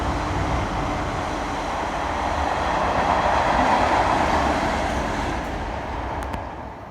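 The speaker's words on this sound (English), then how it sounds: "We've got class 22 Meridian coming into platform 1 at Loughborough station." A Class 222 Meridian train pulls into platform 1 at Loughborough station, a loud steady rumble that swells and then eases off as it arrives, with faint clicks near the end.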